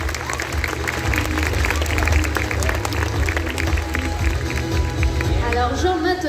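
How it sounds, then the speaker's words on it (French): Audience applause at a sea lion show, a steady broad wash of clapping from a crowd that fills the whole stretch, with a presenter's voice and crowd noise layered over it. "je pense que nous pouvons l'applaudir bien fort, Kali!"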